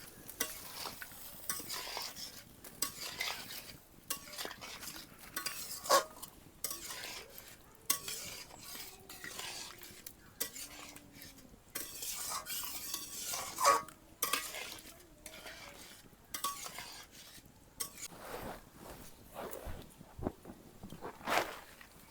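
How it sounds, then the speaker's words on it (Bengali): Food seasoned with salt is stirred and sautéed in a pan, with repeated scraping and clattering spatula strokes over a low sizzle, some louder knocks against the metal, close and continuous without talk. "তারপরে কিছুক্ষণ নাড়বো ভালো করে কষিয়ে নিবে"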